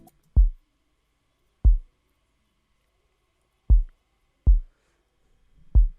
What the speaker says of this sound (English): a kick was actually introduced to the existing groove that we have before